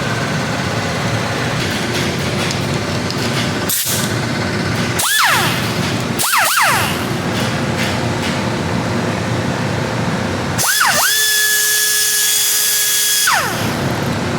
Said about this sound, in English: So, get the die grinder hooked up here.